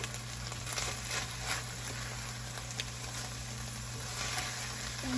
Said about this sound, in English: let those potatoes fry, just so that way the edges will crisp just a little